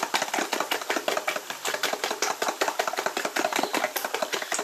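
Irish potatoes for a Spanish tortilla being stirred, a rapid regular run of crisp clattering strokes, close and loud, with no voice.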